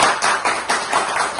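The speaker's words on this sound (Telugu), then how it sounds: "చప్పట్లు, ఈ చప్పట్లు" An audience at a gathering honouring the actor and poet Tanikella Bharani breaks into loud, close applause, with dense clapping in several short swells.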